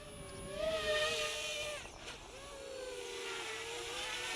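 iFlight Chimera 4 long range FPV drone flying nearby, its propellers producing a steady whining buzz with shifting tonal pitch that dips briefly as the craft maneuvers, then resumes a smooth, fairly quiet hum.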